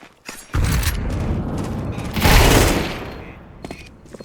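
Grenade blast and gunfire in a shooter video game, sharp shots followed by a heavy rumbling explosion that swells and fades, then scattered bursts, loud and close.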